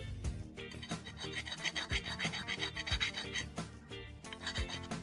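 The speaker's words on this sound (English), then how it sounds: "just going to hit it with the hand file just to clean up some of the sort of rougher bits and hit that inside edge" A hand file rasps along the inside edge of a steel detecting pick for gold prospecting. Close, rhythmic back-and-forth strokes repeat steadily with no talking.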